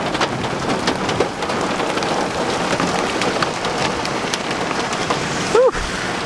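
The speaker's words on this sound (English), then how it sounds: "that's hail in my car" Dense hail and rain drum steadily on a car's body and windows during a storm in Golden, Colorado, a broadband rattling wash that fills the whole stretch, with a brief louder bump near the end.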